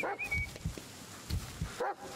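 In Blair Witch, the dog Bullet gives a few soft whimpers and whines, faint and close, over a quiet low rumble of background ambience.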